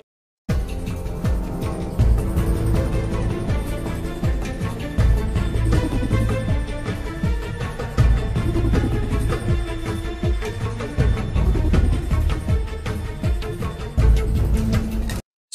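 Sampled string section violins play a cue from The Bourne Ultimatum, driving low-register staccato ostinato figures pulsing steadily and loudly throughout, with no talking.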